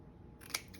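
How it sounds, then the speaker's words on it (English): Scissors make a single short snip while cutting paper for an autumn craft journal. The cut is close and quiet, with no talking. "I'm just gonna snip"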